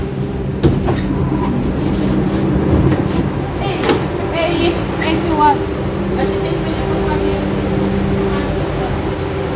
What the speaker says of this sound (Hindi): हमारा मेट्रो स्टेशन आ चुका है कॉलेज ऑफ मिलिटार